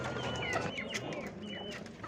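Turkeys and young turkey poults gobble and call at the Gördes poultry market in Turkey, a soft cluster of bird calls and chatter heard close by.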